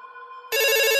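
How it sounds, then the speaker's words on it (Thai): A home landline telephone rings in a quiet house at night. A faint tone comes first, then a loud, bright electronic ring bursts in halfway through and holds steady to the end, with no talking. "เสียงโทรศัพท์บ้านดังขึ้น"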